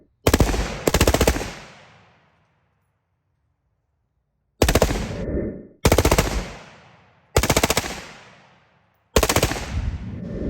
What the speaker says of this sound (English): I call it a violent belt-fed machine gun.